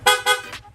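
Two quick, bright horn beeps from a Yamaha Sniper 155 motorcycle followed by a fainter third, blaring at close range against a low idling rumble.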